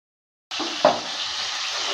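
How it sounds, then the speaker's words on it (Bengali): Rohu fish pieces hit hot rice oil on low-medium heat and set off a sudden, steady sizzle, with a soft knock as they land in the pan. "লো মিডিয়াম আছে ভালো করে মাছগুলোকে ভেজে নেব"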